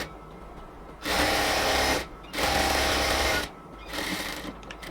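A sewing machine lock-stitches a salwar in two loud, fast, buzzing runs separated by a short pause, then finishes with a softer, quieter burst of stitching.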